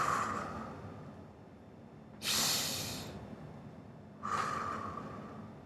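Two deep, breathy exhalations during a standing stretch with hands on the knees, each a broad airy whoosh lasting about a second, close to the microphone over a quiet room.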